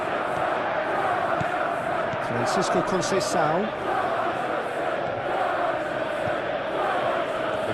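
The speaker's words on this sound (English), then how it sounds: "Maybe the crowd will stay a little quieter next time." Stadium crowd noise in PES 21 during a simulated Chelsea vs Juventus club friendly forms a constant dense roar with a brief cluster of whistles and cries near the middle, while a commentator briefly speaks.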